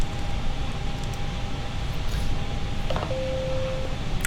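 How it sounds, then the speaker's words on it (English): A phone gives a short electronic notification tone, a steady beep lasting under a second near the end, over constant loud hissing background noise with a faint faraway hum earlier. "Oh, phone made a noise"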